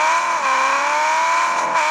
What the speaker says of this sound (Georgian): მოდი ვნახოთ აბა დრიფტი თუ გამოსდის.